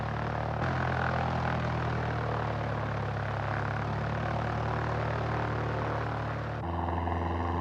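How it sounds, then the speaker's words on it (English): A propeller-driven weather plane in flight gives a steady, loud engine drone with no break, with a slight change in pitch near the end. "The plane's engine is really working hard."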